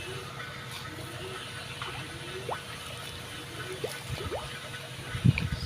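Water flowing and trickling through the aeration system of a backyard tilapia pond, a faint continuous gurgle with a few soft splashes toward the end.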